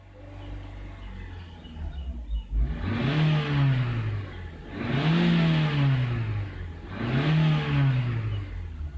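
A 2002 Nissan X-Trail with a low-power fault, its engine revved three times to around 3000 RPM, each rev swelling then falling back to idle, heard up close with no talking.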